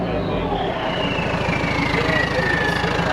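Engine of a newly bought diesel car with a small turbo and electrical wiring faults, running steadily nearby with a continuous low rumble and chug, voices talking over it throughout.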